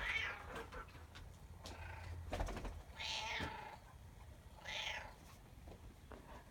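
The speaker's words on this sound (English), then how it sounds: "This is Hunter the cat, and she's also known as Level 2 because she likes to be up on top of things" A cat meows repeatedly, two or three drawn-out calls rising and falling, fairly close over a low steady background hum, with no one talking.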